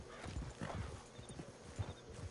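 Horse hooves clip-clopping on the ground in Red Dead Redemption 2, a steady walking rhythm of soft thuds, close and moderately loud, with occasional faint snorting and no talk.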